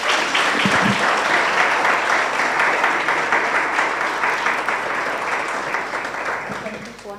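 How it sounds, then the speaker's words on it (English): Sustained audience applause at a memorial lecture, dense and steady throughout, tapering slightly toward the end with faint voices beneath. "A round of applause for them."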